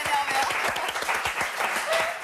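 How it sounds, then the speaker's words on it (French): Studio audience applause rings out during a French television show, a moderate burst of many hands clapping with crowd noise and a faint voice underneath. "C'est des applaudissements à la hauteur de mon énervement."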